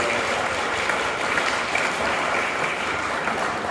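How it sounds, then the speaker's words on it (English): An awards-ceremony audience applauds steadily, a dense even wash of clapping from many hands that lasts throughout without a break. "Give yourselves a big round of applause."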